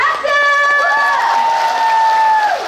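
An outdoor audience at the Goyang lotus lantern festival for Buddha's Birthday roars with a loud, close cheer and applause, one bright whooping voice rising above the crowd for a few seconds.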